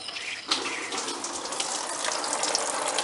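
Coolant water gushes from the radiator drain of a 2005 Hyundai Santa Fe, starting abruptly and pouring in a steady, close hissing splash onto the ground below.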